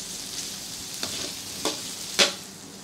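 Onions fry in a pan for a spicy tofu and pork belly dish, a constant soft sizzle broken by three brief louder hissing bursts as they are stirred.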